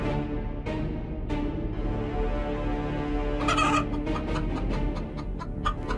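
A chicken kept at home clucks loudly and repeatedly at close range, its calls coming in short bursts.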